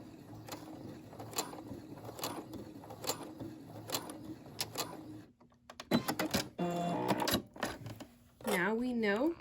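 A Brother SE600 sewing machine runs slowly, with regular needle-strike pulses for about five seconds, then a brief whirring reverse stitch and a rising motor whine, close and moderately loud.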